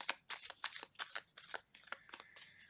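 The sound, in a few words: tarot cards being shuffled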